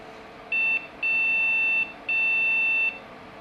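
A retro gaming PC motherboard gives three electronic beeps during a repair attempt, a short one then two longer steady tones, clear and close over faint background hiss.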